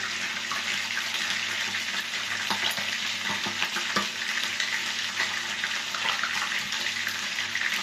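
Chicken fries in hot oil in a home kitchen, a dense continuous sizzle and crackle with scattered pops and spatters throughout, steady and close.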